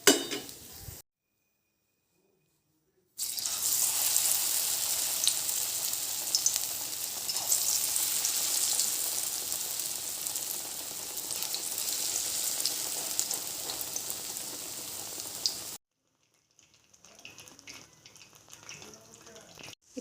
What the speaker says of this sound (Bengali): একে একে সব বড়া এইভাবে ভাজবো।